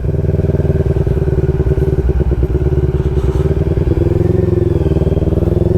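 A motorcycle engine rumbles steadily and loudly throughout, with rattling clatter as it rides over rough ground in Quezon province, Philippines.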